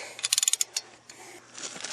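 Ratchet clicking as rusted hub bolts are worked on a 1999 Jeep Cherokee, a quick burst of rapid pawl clicks followed by a pause and a few fainter clicks, close and fairly quiet.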